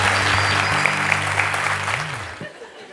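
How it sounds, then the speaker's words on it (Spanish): Live show audience applauding loudly, with a voice speaking over the clapping before the applause tapers off toward the end. "Fuerte el aplauso para ustedes."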